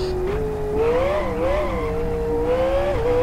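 A race car in the Live for Speed game at South City weaves to warm its tyres, its engine holding a steady close whine that rises and dips in pitch with a faint scrubbing hiss underneath.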